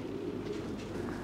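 Young racing pigeons in a loft coo softly in a low, steady murmur, with a faint continuous hum beneath and no voices.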